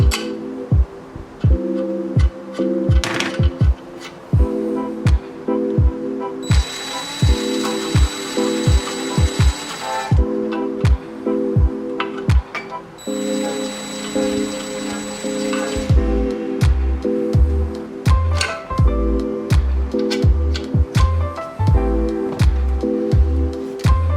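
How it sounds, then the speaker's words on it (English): Ratchet wrench clicking rapidly in bursts while chain adjuster bolts are loosened on a Yamaha YZ125 dirt bike, with pauses, a steady tonal whine in two stretches and heavier knocks near the end. "now we're going to go through and remove our chain adjuster bolts"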